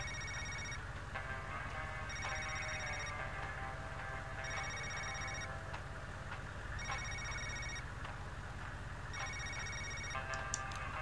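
A telephone rings repeatedly in the video game Knee Deep, its electronic trill recurring at steady intervals over a low, constant hum, fairly faint and with no voices.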